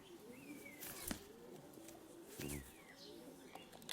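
Young pigeons coo softly up close in a loft, low murmuring calls repeating at irregular intervals, with light chirps and a brief flutter of wings against quiet background.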